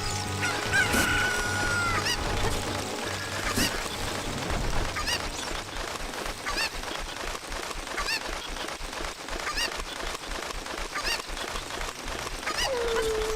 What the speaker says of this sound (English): I can hear the chicken up top